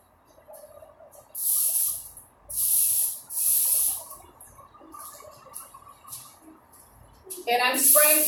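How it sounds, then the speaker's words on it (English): Toilet deodorizer sprays from an aerosol can in three loud, close bursts of hiss, each about a second long, with another burst at the end, in a quiet room with an exhaust fan running. "And I'm spraying toilet deodorizer because of the stench."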